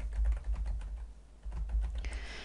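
Close, rapid keystrokes on a computer keyboard while a query name is entered in database software, an uneven run of soft taps with short pauses and no voices.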